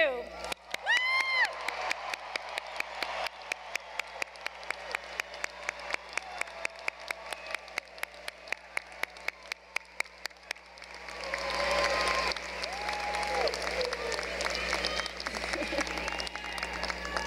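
Graduating high school class of 2022 erupts in a loud collective cheer with rhythmic clapping that builds into sustained crowd roaring and whooping, filling the ceremony venue.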